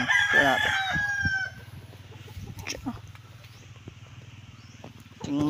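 Fighting gamecock roosters crow nearby, one loud ragged call opening the stretch, then quieter farmyard clucks and scattered noises before another crow starts at the end.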